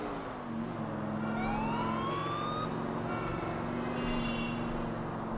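A police siren in the video game GTA 4 wails in rising and falling sweeps over a steady traffic-like drone, moderately distant and fairly faint.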